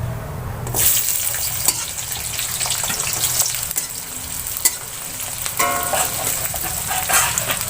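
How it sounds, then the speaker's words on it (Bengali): Onions frying in hot oil for beresta, crisp-fried onion, give a continuous close sizzle and crackle with occasional stirring clinks and splashes. "এটা আমরা এই বেরেস্তাটা ভেজে তুলে নেব"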